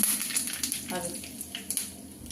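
Hot oil with mustard seeds sizzles and crackles steadily as four or five curry leaves are added, a bright frying hiss with a few louder pops.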